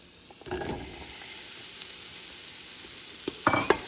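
Potatoes go into a pot of sautéing onions that have turned yellowish-brown, then get stirred in grease, giving a soft constant sizzle broken by a few sharp scraping and clattering stirs near the end, with no talking.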